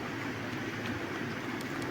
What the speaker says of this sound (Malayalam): നമ്മുടെ സൂപ്പർ ഫാസ്റ്റ് വണ്ടി അങ്ങനെ ക്രോസ് ചെയ്ത് പൊയ്ക്കൊണ്ടിരിക്കുകയാണ്